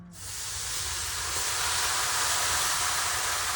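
Steam hisses loudly and steadily in a warm sauna, a broad close rush that swells in within the first moment and holds without pause, with no talk.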